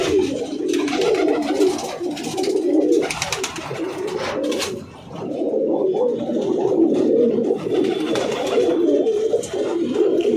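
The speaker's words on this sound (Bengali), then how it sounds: "খুব ভালো পায়রা, খুবই ভালো পায়রা" A flock of tournament racing pigeons coos steadily up close in a loft, an overlapping layered murmur of low coos throughout, with a few brief clattering wing or movement sounds.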